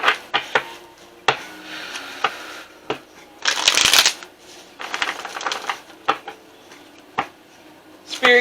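A deck of oracle cards is shuffled close up: sharp taps and snaps of cards against each other, punctuated by two longer riffling bursts, with no talking.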